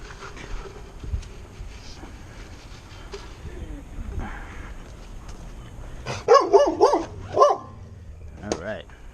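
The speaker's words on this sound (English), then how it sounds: "Such a nice dog." A dog near a shed barks loudly and close in a quick run of several barks, then one more, over low background rumble and a man's occasional speech.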